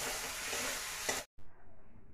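Prawns are stirred in a frying mustard-poppy spice paste, a dense close sizzle and scrape that cuts off abruptly midway and returns as a faint low hiss.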